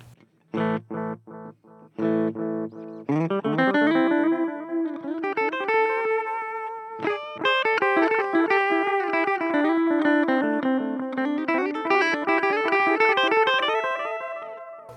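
An electric guitar through a NUX Mighty Lite BT modeling amp plays staccato chords, then sustained distorted notes and lines with tap-tempo delay repeats trailing each phrase, loud and continuous.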